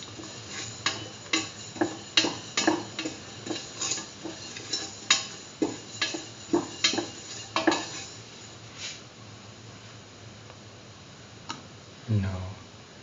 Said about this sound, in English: Thoroughly salt thoroughly and mix.